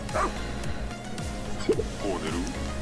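A cartoon dog barking in the Pikmin 4 video game, a series of short yips and woofs mixed with game sound effects and background music.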